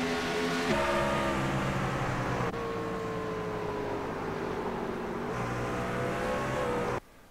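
Pickup trucks race around the New Hampshire oval, a loud, continuous roar of several engines that drop pitch as they pass, steady and close with no voices over them.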